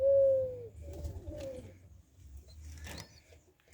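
A Capuchine pigeon at a Jamaican breeding loft coos up close, with a long clear opening note followed by softer, wavering coos and light rustling.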